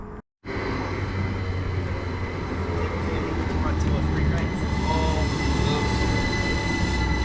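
Class 387 electric multiple unit 387153 rolls into Theale station, a loud, steady rumble of wheels and traction hum that builds slightly as it arrives, with faint voices underneath.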